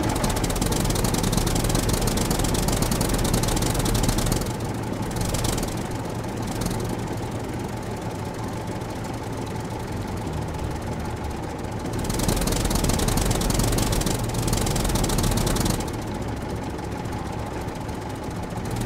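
A tractor engine idling in the game Scum, a loud continuous mechanical drone with a steady knocking rhythm that swells and dips slightly at times, heard alone without talk.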